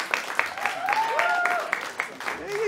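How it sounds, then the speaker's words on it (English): A comedy club audience claps after a joke, a scattered round of applause that is fairly sparse, while the comedian keeps talking over it. "Round of applause to that"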